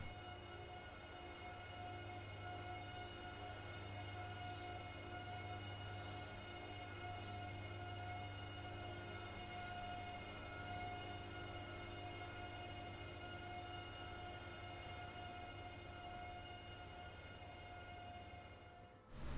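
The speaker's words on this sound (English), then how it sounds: "Bill and Ted had just enough power to get the train moving" A train, hauled by two engines at the edge of their power, starts to move with a faint, steady mechanical drone and sustained whining tones, distant and quiet, with a few soft clanks along the way.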